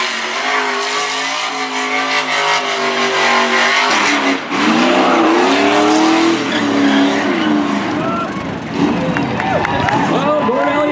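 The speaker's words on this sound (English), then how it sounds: "Ford Elliott can burn her down on the front straight to celebrate that Trophy Dash win" Race truck number 74 does a celebratory burnout on a speedway front straight after a Trophy Dash win, its engine roaring and revving loudly as the tires squeal continuously, with an announcer talking over it.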